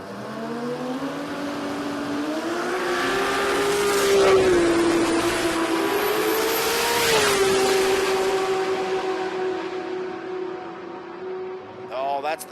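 Drag race cars roar down the strip at a street-car jamboree, with engines revving and rising in pitch through gear changes; sustained, loud exhaust under crowd ambience.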